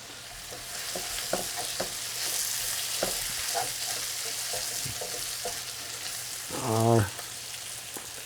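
Sausage frying in a pan with turmeric, hot pepper, black pepper, salt and tomato paste, giving a steady soft sizzle with occasional stirring clicks and a brief louder scrape near the end; a voice speaks briefly.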